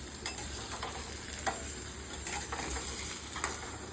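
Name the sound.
potatoes frying in a wok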